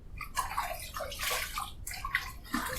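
Water splashing and sloshing as hands wet a face before a shave with a stainless steel safety razor, close and continuous with a few louder splashes and no talking.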